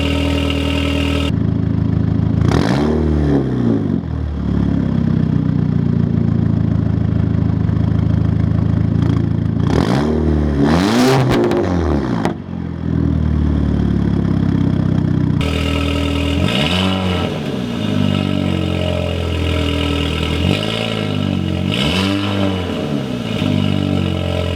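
An Audi A3 fitted with an HPA downpipe and stock muffler idles with a deep, steady drone, broken by several sharp throttle blips that rise and fall. The revs are loud and close, with no talking.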